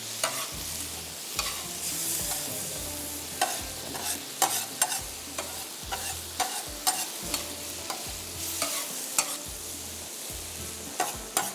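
Onions frying with spices in a pan over lowered heat, a steady sizzle broken by repeated scraping stirs in an uneven rhythm, close and alone without talk.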